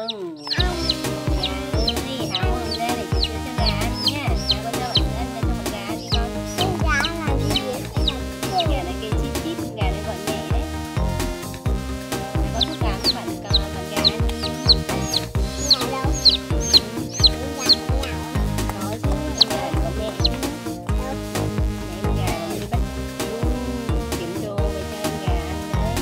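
Chicks cluck and cheep in a children's chick-feeding game, a busy, rhythmic stream of clucks over a continuous looping musical backing throughout.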